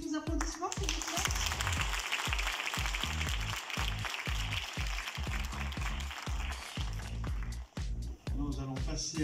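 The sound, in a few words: audience applause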